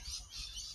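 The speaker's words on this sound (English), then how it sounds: "There's a lot of birds chattering away over here" Many birds chatter in a eucalyptus tree near a Moreton Bay fig in a botanic garden's succulent garden, a dense, continuous high twittering at low level with a low background rumble and no talking.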